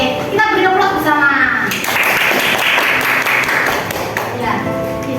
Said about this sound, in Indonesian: Oke, kita beri aplaus bersama.